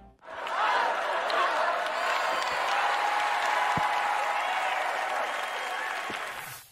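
A large Oscars ceremony audience applauds in a dense, sustained wave of clapping and crowd noise that swells quickly and holds steady throughout.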